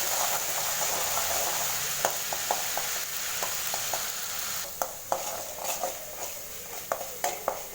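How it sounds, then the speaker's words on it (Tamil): Ginger garlic paste sautés in hot oil with onions for egg masala, producing a continuous bright sizzle punctuated by regular clicking taps and scrapes of a spatula against the pan that grow more frequent toward the end. "எண்ணெயில் சேர்த்து நல்லா மிக்ஸ் பண்ணி கலர் கொஞ்சம் சேஞ்ச் ஆகிற அளவுக்கு இஞ்சி பூண்டோட பேஸ்ட்டோட பச்சை வாசம் போகிற அளவுக்கு நல்லா வதக்கி விட்டுருங்க."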